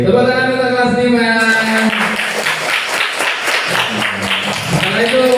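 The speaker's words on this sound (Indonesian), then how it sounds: "tepuk tangan untuk kelas 5" A grade 5 class in a school lesson applauds together, a dense patter of many hands clapping loudly over a few seconds, with voices chanting briefly at the start.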